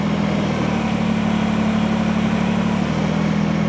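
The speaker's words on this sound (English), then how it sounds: "So now you can just push forward and lift the front of your tractor." Steady idling drone of a Kubota BX compact tractor's engine as its front end loader lifts the front of the tractor, a constant low hum with a slight drop in pitch near the end, no talking.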